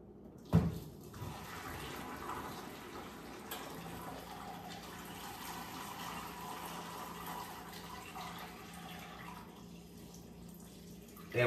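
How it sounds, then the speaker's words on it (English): Hot water is poured steadily into a countertop water machine for cleaning, a continuous rushing, gurgling fill that runs unbroken for several seconds at close range. "And what you do is you pour hot water down in here until it gets full."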